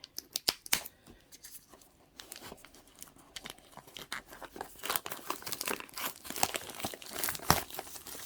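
Close crinkling and snipping of plastic packaging of CXK T12 Pro Bluetooth earbuds being cut with small scissors, with sharp cuts and rustling bursts that grow busier and louder toward the end.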